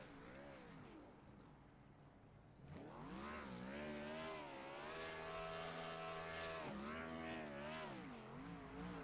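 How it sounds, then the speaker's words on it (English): Simulated race car in the iRacing game doing burnouts at Charlotte Motor Speedway, a loud revving engine whine that rises and wavers in pitch, starting quieter then surging to a sustained roar, with commentary voices underneath. "There's Tom Sears doing some burnouts."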